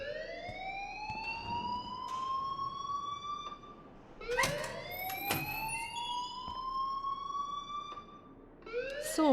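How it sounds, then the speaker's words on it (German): A rising, wailing alarm siren from the video game Life Is Strange sweeps upward in long repeated cycles, steady and fairly loud over a dull ambient background. "Schöne Sirene im Hintergrund."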